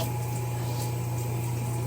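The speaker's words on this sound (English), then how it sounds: "I am running water over my head." Shower water running over a person's head, a steady close hiss of spray with a constant low hum underneath, no speech.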